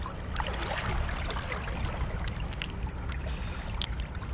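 Running water rinsing the gills of a blue swimmer crab, a steady close splashing wash with scattered brighter drips and spatters, continuous throughout with no talking.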